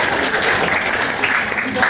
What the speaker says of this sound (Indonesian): tepuk tangan dulu kelompok 2